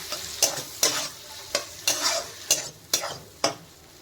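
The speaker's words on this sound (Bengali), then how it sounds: "1 চামচ রেড চিলি সস, 1 চামচ গ্রিন চিলি সস, আর দিয়ে দিচ্ছি 1 চামচ সয়া সস। এগুলো আমি ভালো করে নেড়ে নিচ্ছি।" Red and green chili sauces and soy sauce are stirred in a sizzling pan for chowmein, with about eight evenly spaced spatula scrapes cutting through the close, continuous frying hiss.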